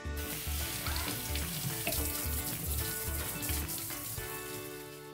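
A kitchen tap rinses potatoes in the sink, a steady, moderately loud hiss of running water with faint splashes and clatters as the potatoes are handled, easing slightly toward the end.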